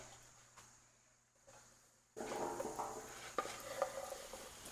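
Sweet potatoes dropped into olive oil on a Blackstone griddle, a quiet start that breaks into a steady, close sizzle with occasional stirring scrapes.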